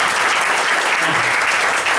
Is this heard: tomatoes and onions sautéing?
no